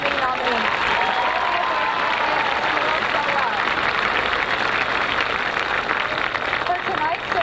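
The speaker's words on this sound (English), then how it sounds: "Please give a round of applause for all of our homecoming nominees." Loud, sustained crowd applause for the homecoming nominees fills the stands at a high school homecoming football game against Washburn Rural, steady clapping from start to finish with scattered cheers and voices mixed in.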